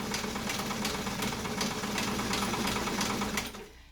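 A White 966/999 sewing machine runs a side stitch of two small stitches side by side, its steady mechanical whir and rapid needle clatter continuing loudly before cutting off near the end.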